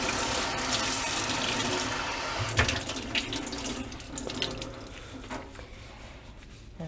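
A tap runs steadily into a sink while tie-dye fabric masks are rinsed under it, the close rushing stream changing as the cloth is moved and splashed through the flow.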